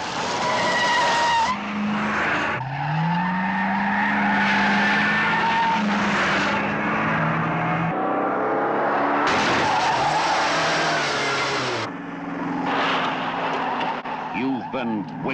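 A red Mach 1 Mustang screeches through a car chase in Diamonds Are Forever, with sustained tire squeals and skids over a roaring engine, loud throughout and under someone talking over the scene.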